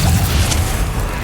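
A Confringo blasting spell going off in the Hogwarts Legacy video game, one loud, dense booming explosion with a rumbling low end that fills the whole moment, no talk.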